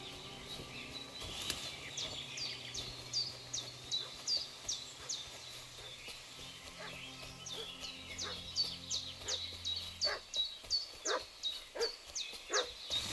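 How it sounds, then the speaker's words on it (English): A dog in the video game Kingdom Come: Deliverance II barks repeatedly in fast, regular bursts at a distance. Birds call faintly in the background. "What's that dog making such a fuss about?"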